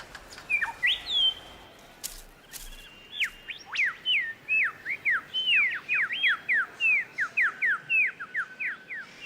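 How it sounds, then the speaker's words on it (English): Superb lyrebird calling in a drying moist forest, a run of loud, clear whistled notes and rapid downward-sweeping chirps repeating in quick bursts, close and alone over quiet background. "The superb lyrebird."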